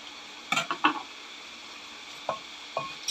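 Cicada and eggplant paste with fermented fish sauce is stirred by hand in a bowl. A few short, close scraping and mashing strokes come in brief bursts, with quiet gaps between them and no talk.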